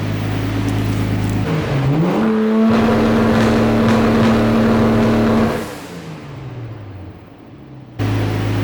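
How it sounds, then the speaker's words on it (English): Nissan Skyline GTS-T with an HKS F-CON V Pro running launch control, engine revving up and holding at a loud steady pitch before the car pulls away and the sound drops and fades. "you mash the gas, let go of the clutch, and as soon as it starts going, you're off to the races"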